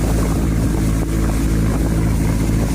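A loud, steady motorboat engine drones continuously, close by at sea on a fishing trip, with wind and water noise mixed in and no talking.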